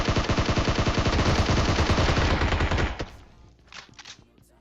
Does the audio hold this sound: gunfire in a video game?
yes